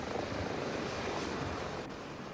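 A Flight for Life medical helicopter roars close by with a dense, steady rotor and engine wash, loud and continuous, easing slightly toward the end.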